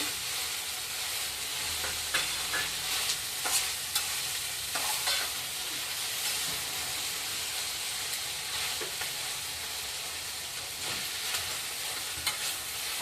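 Vegetables for veg hakka noodles are stir-fried in a hot pan with salt and masala, giving a steady dense sizzle with repeated scraping stirs throughout, no voices.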